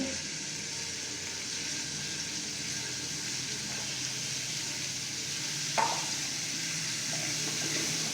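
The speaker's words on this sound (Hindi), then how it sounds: "अदरक लहसुन का पेस्ट 1 टीस्पून। इसको हल्का सा भूनेंगे।" Ginger garlic paste frying lightly in a pan, a steady soft sizzle close by with an occasional faint clink of a utensil, no talking.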